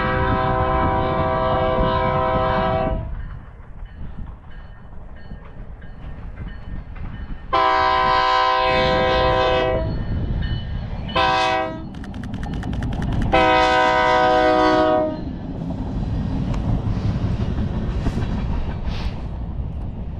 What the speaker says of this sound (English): I think it's a decent horn. It's a new K3,